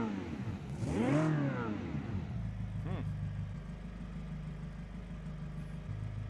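WOSSOM car with a 3.5 liter V8 and three-speed manual, rear-wheel drive, revs once in a rising and falling sweep, then settles into a steady low idle, heard up close in a game.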